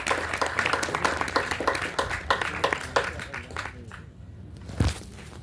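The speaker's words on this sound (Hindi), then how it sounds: "एक बार जोरदार सभी कलाकारों के लिए तालियां।" Audience applause for folk artists at an Aalha singing performance, a crowd clapping at moderate distance for several seconds before dying away, followed by a single thump.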